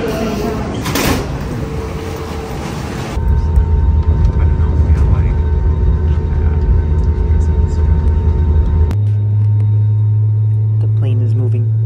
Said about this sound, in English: The plane is moving.